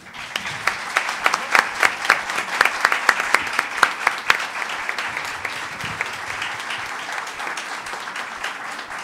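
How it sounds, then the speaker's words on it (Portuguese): Audience applause for an author at a university lecture hall, many hands clapping in a dense, sustained patter with some sharper individual claps, gradually thinning toward the end. "Eu já peço, desde logo, mais aplausos para Conceição Evaristo"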